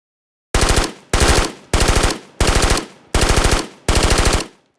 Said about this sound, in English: some of these weapons have specific sounds to them because the modders have been working on getting the actual sounds from these weapons incorporated into the mod